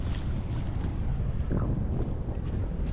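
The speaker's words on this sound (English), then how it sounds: "I know it's going to be very windy down here and you're probably struggling to hear me" Strong wind gusting across the beach at Skegness on the East Coast, a steady loud roaring rumble buffeting the microphone without pause and with no voices over it.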